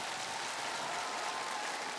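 A Kyiv concert audience at a charity tour applauds as a singer is welcomed, a dense, steady roar of applause with no break.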